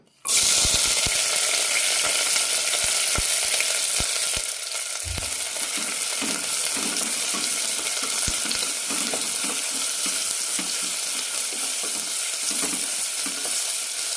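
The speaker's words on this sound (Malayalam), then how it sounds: "സവാള ചെറുതായൊന്ന് ചുവന്ന് കിട്ടണം അതുവരെ വഴറ്റാം" Loud, steady sizzling of onions, green chilies and curry leaves frying in hot oil in a pressure cooker, with scattered crackles and occasional scraping of a spoon stirring, no voices.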